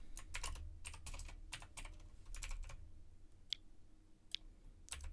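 Someone types code on a computer keyboard, giving quiet bursts of clustered keystrokes with short gaps and a few sharp isolated clicks, close up and with no talk.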